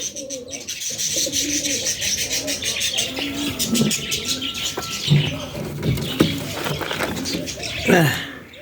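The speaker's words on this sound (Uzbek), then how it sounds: "Yirik kaptar." Large pigeons coo repeatedly close by, their soft throaty calls mixed with a few chirps and light fluttering, and faint voices in the background.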